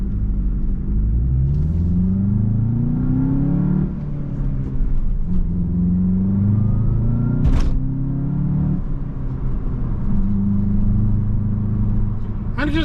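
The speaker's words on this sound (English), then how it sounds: "And it just gets right up to speed." A 2025 Volkswagen Jetta GLI with a 6-speed manual accelerates from a stop. Heard from inside, the engine rumble rises through repeated climbing gear pulls with dips at each shift.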